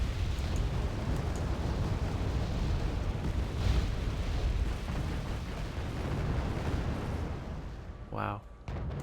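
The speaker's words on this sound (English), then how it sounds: "Artillery's coming in." Artillery fire thunders continuously in the war game Wargame: AirLand Battle, a dense rumbling barrage of booms, loud and sustained, with a sharp burst near the end.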